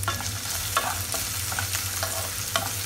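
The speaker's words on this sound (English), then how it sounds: "Let them fry for a while." Cashew nuts frying in a pan for dhaba-style pulao, a steady sizzle of hot fat broken by a few sharp scraping strokes as they are stirred, close and fairly loud with no talking.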